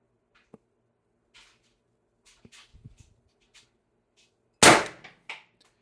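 An Umarex TR50 airgun fires a 12.7 mm steel ball bearing on 1100 PSI HPA with an 8-inch barrel extension: one loud, sharp crack that stands out after a few faint clicks and handling noises, then a short trailing knock.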